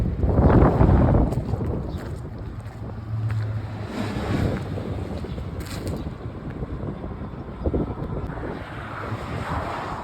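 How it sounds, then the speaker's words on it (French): Strong gusty wind buffets the microphone outdoors along the Camino Francés pilgrimage route in Spain, with loud, rumbling low gusts rising and falling continuously and no talking. "Il y a pas mal de vent aujourd'hui"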